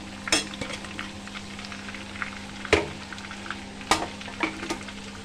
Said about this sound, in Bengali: তো এখানে আমি এবার টমেটো কুচিগুলো দিয়ে দেব আর সাথে আলুটাও দিয়ে দেবো